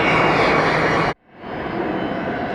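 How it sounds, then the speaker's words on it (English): Airbus airliner taking off at Atlanta Hartsfield, a loud, steady engine roar with broad rushing noise that briefly cuts out and then returns at a slightly lower level. "What an Airbus."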